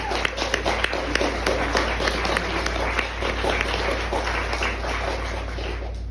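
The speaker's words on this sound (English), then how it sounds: "I hope you'll give one more round of applause." A bookstore audience at the Strand in New York gives a round of applause, dense steady clapping that fills the room for about six seconds with no voices over it.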